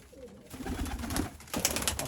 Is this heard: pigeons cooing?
yes